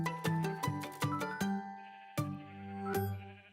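A video game sheep bleats several times in quick succession, then again after short pauses, with clear, close and fairly loud calls and no talking.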